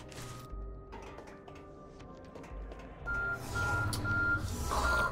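A timer in the video game Stellar Overload beeps steadily over a low rumbling background, and the sound gets louder and busier in the second half.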